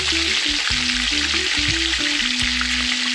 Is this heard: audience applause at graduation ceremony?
no